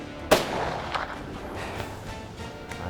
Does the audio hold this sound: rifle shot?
yes